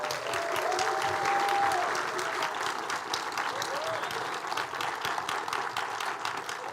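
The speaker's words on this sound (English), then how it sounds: "Clap it up for Rosa." Audience applause welcomes organizer Rosa Clemente to the stage at a Black August event, steady clapping filling the room for several seconds with a faint tonal whistle early on and a bit of crowd noise mixed in.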